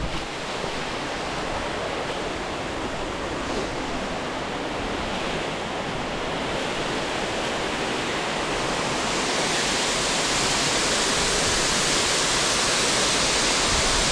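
Ryushun Otaki waterfall in Nikko, Japan roars as a dense, continuous wash of falling water, loud and close, swelling slightly toward the end with no voices.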